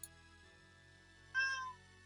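A pet cat waiting to be fed lets out one short, faint meow near the end, alone against a quiet background.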